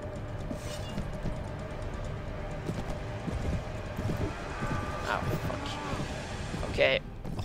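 Horse hooves in the Mount and Blade video game, a steady clip-clop of galloping running throughout under wind-like noise and other game sounds.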